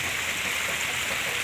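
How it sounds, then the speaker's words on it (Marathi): A small waterfall sends water tumbling down a slope outdoors, making a steady, full rushing hiss. It sounds close and unbroken throughout, with no talking over it. "तिथून खाली पाणी उतरतं आणि इथे खाली धबधबा आहे छोटा"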